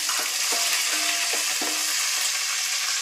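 Chopped ginger and garlic sizzle steadily in hot tempering oil for pickle, a constant close hiss broken by a few soft stirring scrapes and clinks.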